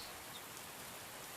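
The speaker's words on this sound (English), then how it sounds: "Currently raining where I'm at" Steady rain hisses down in the game Myth of Empires, a soft, even patter with no breaks, quiet and uniform throughout.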